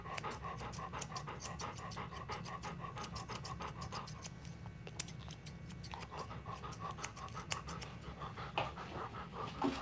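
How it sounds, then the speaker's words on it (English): A golden retriever pants rapidly and steadily close by during a full grooming session, with faint scratchy handling and clipping noises underneath and no talking. "panting for a dog means a lot of different things"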